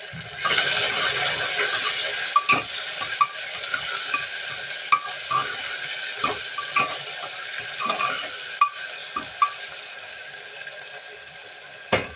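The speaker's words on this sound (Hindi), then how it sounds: "प्याज भून लेंगे, जब तक ब्राउन नहीं हुआ प्याज भून लेंगे।" Onions fry in a pan for a home-cooked mutton dish, a steady sizzle with repeated sharp clinks and scrapes of a spoon stirring against the pan, close up and with no voices.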